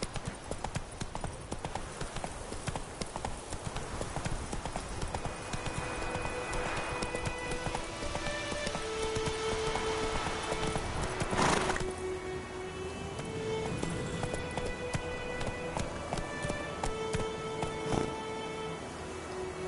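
A horse in The Witcher video game gallops with a fast, continuous hoofbeat rhythm, close and prominent throughout, with faint game music tones and ambience underneath.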